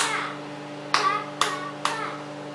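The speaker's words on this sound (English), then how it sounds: "Come on, you can clap." Three sharp, separate hand claps land about half a second apart, close and clear, over a low steady hum, with a voice faintly in the background.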